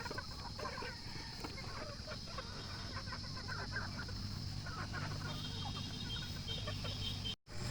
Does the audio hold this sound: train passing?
no